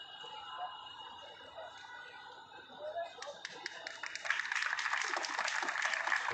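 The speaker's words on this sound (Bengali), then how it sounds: "ওর জন্য করতালি সবাই দিয়েছে" An audience at a Lalon festival event breaks into applause, the clapping swelling from scattered taps into a dense, steady round after a spoken introduction.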